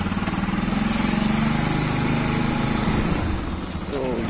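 A motorbike engine runs at a steady idle, a close, rough, pulsing drone that holds level and then shifts slightly near the end.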